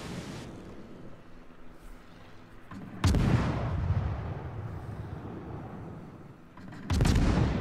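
Guns on an Italian tier-6 premium destroyer, the Leone, fire in World of Warships: two heavy booming salvos roll out over a constant low rumble of engine and sea, loud and close, without speech.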